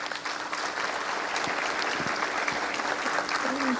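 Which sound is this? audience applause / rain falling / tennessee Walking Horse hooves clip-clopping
audience applause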